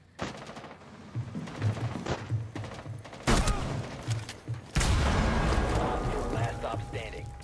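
Video game gunfire, a stretch of rapid shots that builds into heavy, loud bursts of automatic fire with booming impacts toward the end.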